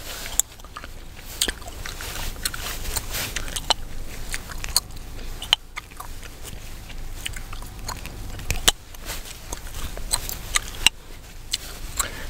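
Bubblegum chewed close to the mic during an ASMR livestream gives a steady run of moist smacks and sharp little clicks, near and fairly loud, with no talking.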